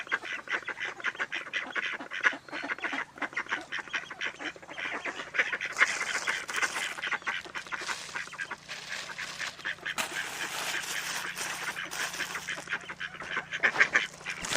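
A flock of ducks quacks and honks continuously, many calls overlapping in a busy, rhythmic chatter nearby.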